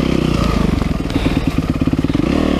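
A Honda Shadow motorcycle engine idles loudly and close by, with a steady low rumble and rapid pulsing firing beats throughout.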